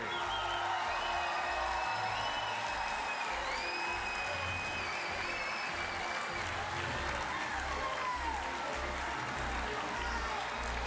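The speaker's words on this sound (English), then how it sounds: "One last big round of applause collectively for the Cubs of yesterday." A large Cubs Convention audience in 2016 gives a sustained, dense round of applause with some cheering and whoops, loud and continuous for about eleven seconds without speech.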